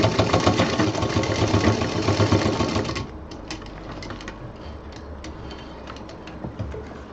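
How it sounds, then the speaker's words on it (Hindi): A sewing machine runs loud, fast and rhythmic while double-stitching a baby diaper bag, then stops, leaving quieter handling clicks and rustles. "इसको भी ऊपर डबल सिलाई दे देंगे मजबूती से"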